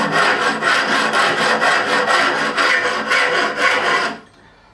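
A coarse bevel file in a holder is worked by hand across guitar frets on an Ibanez Roadstar II RG200 neck, rasping in loud, steady back-and-forth strokes for about four seconds before stopping.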